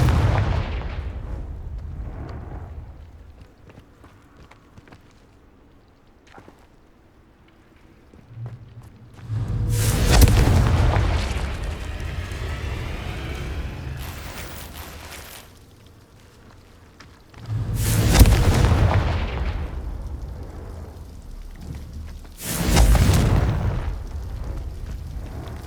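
Confringo blasting spells in Hogwarts Legacy go off as three heavy, booming explosions, each a loud broadband burst with a rumbling tail, separated by quieter stretches of low ambient rumble.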